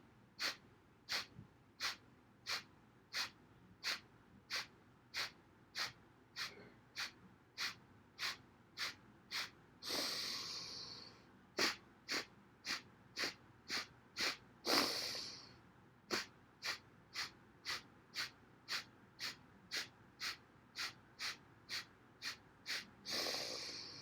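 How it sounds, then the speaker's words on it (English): Rapid staccato exhalations in a breathing exercise: sharp, evenly spaced puffs through the nose in a fast steady rhythm, broken by three longer, deeper inhales. "Allowing that breath to come in with that rapid fire exhalation."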